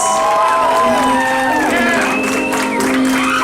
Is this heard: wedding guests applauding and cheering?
yes